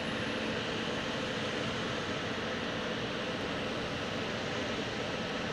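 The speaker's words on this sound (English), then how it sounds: "United Airlines heading to Newark, flight" A United Airlines Embraer E175 jet at Boston Logan International Airport produces a steady, broad roar that stays even and unbroken, heard at some distance with no voices.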